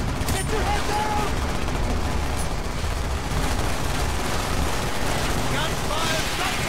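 Rapid gunfire in a Call of Duty Black Ops campaign scene: dense continuous bursts with booming low rumble throughout, loud and chaotic, mixed with game sound effects.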